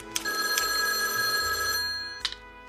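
A telephone bell rings in a continuous metallic trill, close and loud, stops briefly, then starts again.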